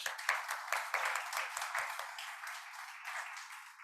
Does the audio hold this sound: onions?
no